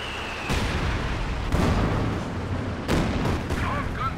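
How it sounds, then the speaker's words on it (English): A Werfer rocket artillery barrage in a Company of Heroes 2 battle on the Redball map rumbles through a series of loud booming impacts, three or four heavy blasts spaced a second or so apart over a continuous battle din. "To avoid that Werfer barrage."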